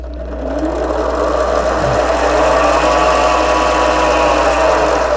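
An LMS 5100 mini lathe motor runs in reverse, giving a steady, loud electric whine with a constant low hum that holds evenly throughout after a brief rise at the start.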